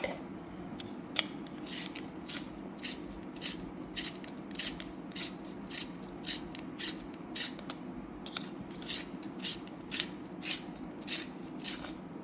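Repeated scraping strokes of a pencil being sharpened for caricature drawing, about twenty short rasping passes in a steady rhythm with a brief pause midway, close and moderately quiet over a low background hum.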